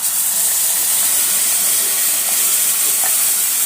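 Gravy for mushroom curry pours into a hot pan, giving a loud, continuous hiss and sizzle that stays steady and dominates throughout.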